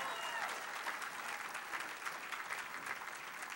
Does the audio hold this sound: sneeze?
no